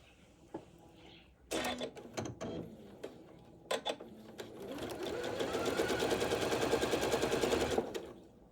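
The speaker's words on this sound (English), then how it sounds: "I'm going to stitch this out so that you can see the difference in" A sewing machine stitches a quarter-inch seam, starting with a few scattered mechanical clicks and short bursts, then running in a steady, fast rattling hum for several seconds before stopping.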